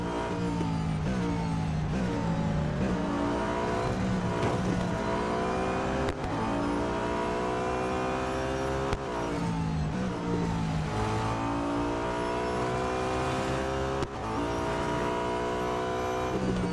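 Race car engines rev and accelerate continuously in Real Racing 3, with repeated rising engine pitch as gears shift and several cars roar together loudly.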